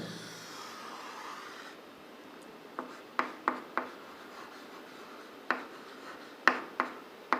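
A lecturer writing a diagram on a board, a quiet rubbing stroke followed by a series of sharp, separate taps and scratches at an irregular pace, close and fairly faint.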